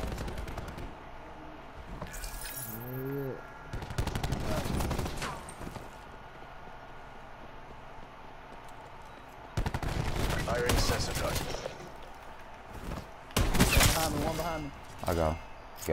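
Call of Duty Black Ops 4 gunfire: several loud bursts of rapid automatic shots separated by quieter stretches, with people talking over the fighting.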